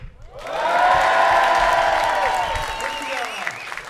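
Convention crowd at the Toulouse Game Show cheering and whooping loudly, with applause and shouts swelling quickly and then holding as a sustained roar.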